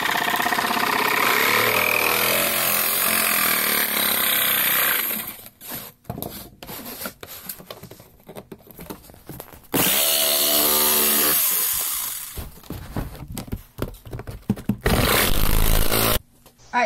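A power tool cuts a chest plate from sheet material for armour, a loud harsh grinding that runs steadily, stops, then resumes in bursts with pauses between.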